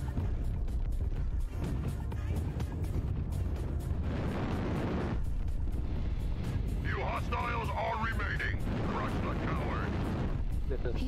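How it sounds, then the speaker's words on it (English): Artillery strike explosions in MechWarrior Online roll in as continuous loud booming rumble with dense blasts over the whole stretch, mixed with game effects and a voice talking over them. "Artillery strike activated."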